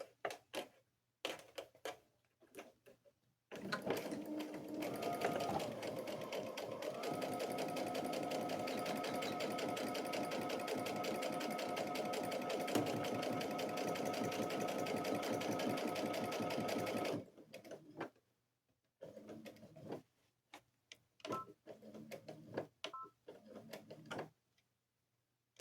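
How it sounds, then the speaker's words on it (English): A sewing machine runs steadily for about fourteen seconds, a loud even mechanical whir, then stops and follows with short bursts of stitching and clicks amid quiet pauses. "So I just did a couple of lock stitches there."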